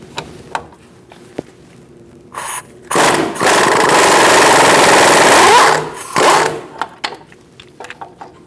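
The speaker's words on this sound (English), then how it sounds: "I'm going to use my impact gun to loosen it up." An impact gun on a 21mm socket loosening the outer tie rod nut on a 2004-2012 Chevrolet Colorado, giving one loud, steady burst of about three seconds with a brief stutter, surrounded by quiet clicks and handling noises.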